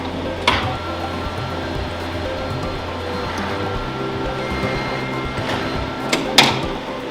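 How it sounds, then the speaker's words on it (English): A Univex Sprizza pizza machine presses and spins dough with a mechanical finger-like action, producing a continuous low mechanical hum broken by a few sharp clicks and knocks. "what it's using is a mechanical finger-like action to actually press the dough outwards and spin it without using heat."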